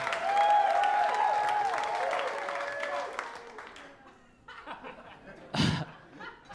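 Comedy club audience at a stand-up show clapping and laughing together, a lively mix of applause and whoops that gradually tapers off, followed by scattered chuckles and a brief burst of laughter.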